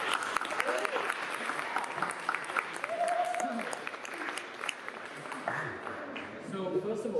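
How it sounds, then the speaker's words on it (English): An audience at a National Gallery talk applauds a speaker, a fairly quiet, continuous wash of clapping with some murmuring voices mixed in throughout. "A round of applause for Stanimir Dimitrov."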